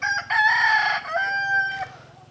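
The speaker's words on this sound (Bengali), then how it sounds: "দেশির মুরগির ডাক" A village chicken rooster in rural Tanzania crows nearby in one long, loud cock-a-doodle-doo that rises and then trails off, with no other sounds over it.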